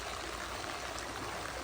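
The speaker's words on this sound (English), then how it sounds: "This is the Gila River." The Gila River flows steadily near a hot springs campground on a rainy morning, a constant close rushing and burbling of moving water without pause.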